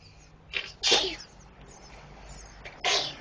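Three quick sneezes burst out close by, a small one followed by two sharper ones, against a quiet indoor background.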